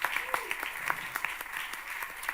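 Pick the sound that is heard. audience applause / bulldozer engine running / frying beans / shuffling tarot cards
audience applause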